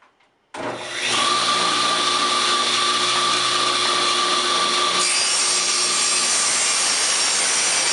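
A saw cuts through a jig of glued-together hardwood pieces made for holding corks, a steady loud whine that starts abruptly after a brief quiet moment and runs unbroken to the end, with no talking.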